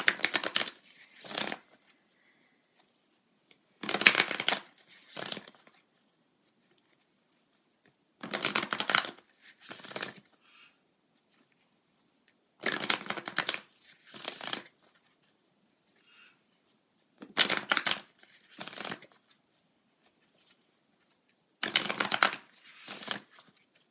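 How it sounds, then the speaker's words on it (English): Tarot cards from a moon deck are shuffled up close in six quick riffling bursts, each separated by a short pause, with no voices. "I am going to pull a card from my moon deck"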